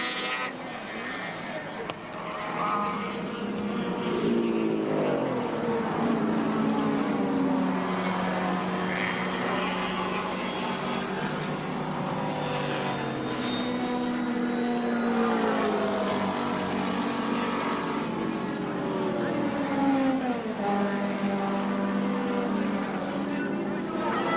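Touring cars, Holden Commodores and Mazdas, race at Surfers Paradise Raceway in the 1983 ATCC. Loud, close engines rise and fall in pitch through repeated gear changes as cars pass in succession.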